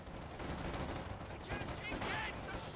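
Machine gun fire from a squad in a Company of Heroes 2 4v4 battle, with dense, continuous rattling bursts and distant battle noise under faint voices.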